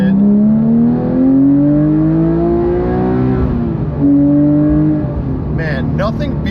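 A Porsche GT3 RS pulls hard in second gear, its engine note climbing loud and close, easing briefly, then rising again before a shift, with a voice entering at the end.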